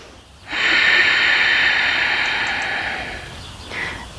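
A slow, deep breath during a split stretch: a quiet moment, then a long, loud, airy exhale that gradually fades, followed by a softer breath near the end.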